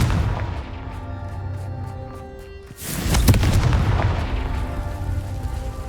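A Confringo spell blast in the Hogwarts Legacy video game: a sudden loud, booming burst about halfway through, followed by a rumbling decay over a steady game-audio background.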